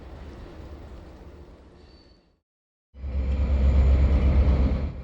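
A Reading & Northern NRFF freight train runs on the line, heard as a low rumble that fades to silence midway, then returns as a louder, heavier, steady rolling rumble.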